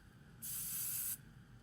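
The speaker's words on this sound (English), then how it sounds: "So I'm going to spray it now." A single short burst of hairspray hisses for under a second, close and crisp, against a quiet room.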